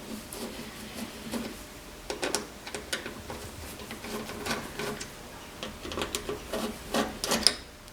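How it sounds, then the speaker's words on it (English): Small screws driven in by hand to fit the front indicator lens and chrome surround on a Morris Mini Cooper S under restoration, making quiet, close, irregular ticking and scraping clicks in a steady run. "So now I can just start screwing it in."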